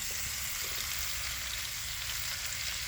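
Steak frying in a pan inside a van, a dense, even sizzle holding steady close by with a low rumble underneath.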